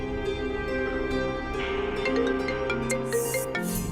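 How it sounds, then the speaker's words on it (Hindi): A mobile phone ringtone for an incoming call plays as a steady melodic tone pattern that runs through the whole stretch without pause. It sounds close and moderately loud, and nobody speaks over it. "आलिया क्यों फोन कर रही है इस वक्त?"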